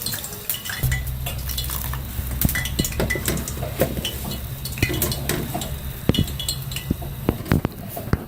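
Metal spoon scraping and clinking in a pot as meat fries for kachnar gosht, with a steady low cooking hiss and frequent sharp utensil taps throughout.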